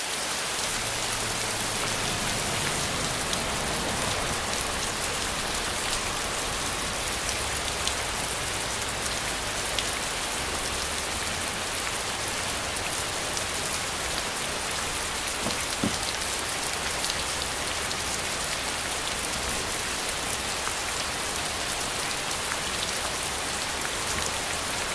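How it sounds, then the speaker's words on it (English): A DIY film rain machine sprays water onto a car for a night storm scene, producing a dense, steady hiss of rain pattering on the surface throughout, loud and unbroken, with no voices. "here's actually a little scene that I did with the car and the rain machine."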